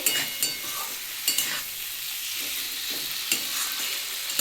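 Elephant foot yam curry with catla fish being stirred and sautéed in a pan, a continuous loud sizzle broken by periodic scraping strokes of a spatula, close up with no voices.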